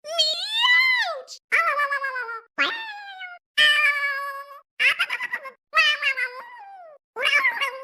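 Seven short, bright cartoon-voice cries from the Mario Kart 8 Deluxe racing game, in which a character's voice imitates a cat's meow when hit. Each cry is loud and close, separated by brief silences.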